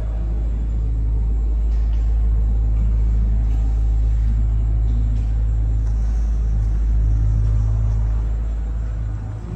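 A 2015 Ford F-150 Platinum with the 3.5-liter twin-turbo EcoBoost engine idles close by, a loud, steady low rumble holding evenly with a slight swell near the end.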